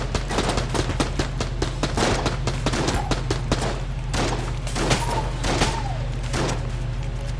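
Shotgun blasts in the video game Enter the Gungeon, a rapid barrage of sharp shots in quick bursts over several seconds with a low steady hum beneath.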